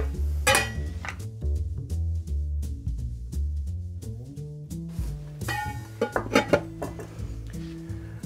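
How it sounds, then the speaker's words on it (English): Fresh, cold ice cubes clatter into a cocktail shaker for a maple margarita. There is a dense run of clinks and knocks over background music, with a busier rattle near the end. "Now we need some fresh ice."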